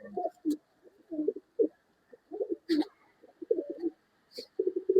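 Tara pigeons coo in a pigeon loft, making repeated soft throaty coos in close, uneven bursts with a few brief sharper sounds between them.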